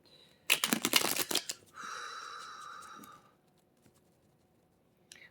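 Tarot cards being shuffled close up: a quick burst of rapid riffling snaps lasting about a second, then a softer sustained sliding whoosh, followed by near silence and a brief final tap.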